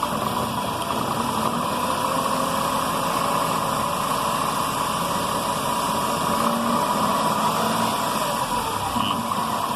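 Car engine held at raised revs of 1500 to 1800 rpm during a battery charging test with a Bosch BAT 131 tester, a loud, steady, even drone that stays constant throughout.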